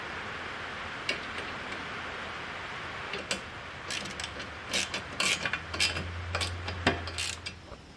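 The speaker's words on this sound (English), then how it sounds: "it's time to put in the compression plate and tighten up those bolts." A ratchet wrench tightens bolts on a tractor step compression plate, with repeated clicking ratchet strokes in irregular bursts, close and moderately loud, growing busier toward the end over a low hum.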